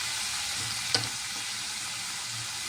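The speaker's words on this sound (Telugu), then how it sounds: "ఇప్పుడు కొంచెం టమాటా ముక్కలు వేసుకుందాము" Chopped tomato pieces sizzling in a frying pan of puffed rice chitranna with a pinch of turmeric, a constant close hiss with one brief clack from the stirring utensil.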